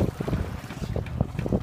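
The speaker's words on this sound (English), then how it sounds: "Listen to that splash again." Oars of a rowing crew splashing into water with each pull, a series of short rhythmic splashes over steady wind and boat noise.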